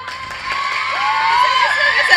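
A crowd cheers and whoops at the grand inauguration of the Shri Nrittalaya dance studio in Pallikaranai. The cheering is loud and continuous, with children shouting near the front and a steady roar behind.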